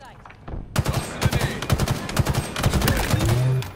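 Rapid bursts of automatic gunfire in a Halo Infinite multiplayer match, close and loud, repeating in quick volleys with game effects layered throughout.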